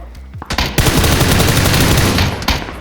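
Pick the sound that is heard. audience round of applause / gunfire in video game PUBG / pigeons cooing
gunfire in video game PUBG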